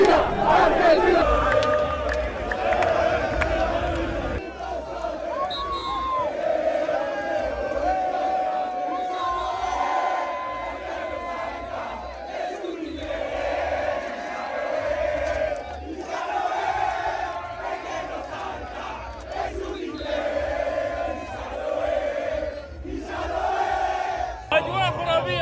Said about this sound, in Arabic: أجواء خرافية ما بين الجمهور الأرجنتيني والجمهور التونسي